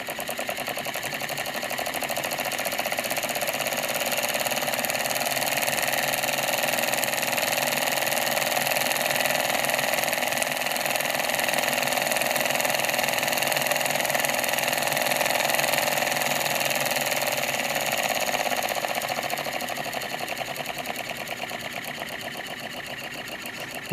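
Small Chinese solenoid engine on a variable-speed control, running with a steady buzzing mechanical hum that rises gradually as it speeds up, loud and close with no talk.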